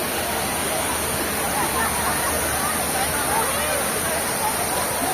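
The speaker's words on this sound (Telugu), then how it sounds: "Beautiful Dudhsagar water falls." Dudhsagar waterfall in Goa roars as a steady, dense wash of falling water, loud and continuous from start to finish with no breaks.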